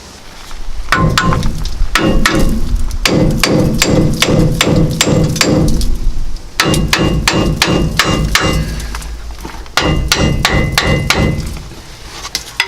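Hammer blows on a seized rear brake caliper locked onto the rotor of a Ford F350 Super Duty on 275 18-inch tires: loud, close metallic whacks in rapid bursts with short pauses, repeated steadily throughout.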